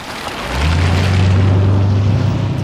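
A deep 6.75-litre V8 engine drone in a Bentley T2 rises in at the start and holds steady, a loud low rumble sustained with no talking.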